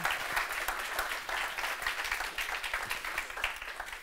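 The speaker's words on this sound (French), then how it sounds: "Et on peut l'applaudir." Conference audience at the WEB2DAY 2017 web development event applauds with steady, dense clapping that keeps going for the whole stretch, a close and continuous patter.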